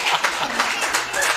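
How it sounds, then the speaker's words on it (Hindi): An audience applauds a Haryanvi or Rajasthani joke poem, with a brisk, fairly close patter of many clapping hands over a short stretch. "जोरदार तालियां एक बार इस कविता के लिए"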